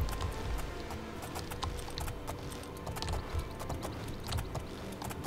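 Horse hooves clip-clop in The Elder Scrolls IV: Oblivion as the player rides. The close, steady hoofbeats repeat in a brisk rhythm over a low rumbling bed, and no one speaks.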